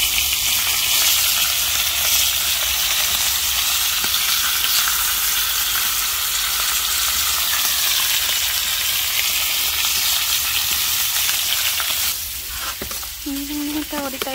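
Small fish frying in hot oil, a steady, loud broadband sizzle that holds evenly, with a brief utensil clatter near the end.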